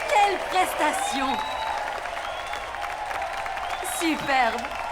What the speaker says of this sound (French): Un tonnerre d'applaudissements pour Noah et Bess!